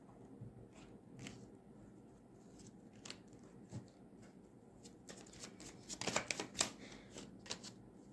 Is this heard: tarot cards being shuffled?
yes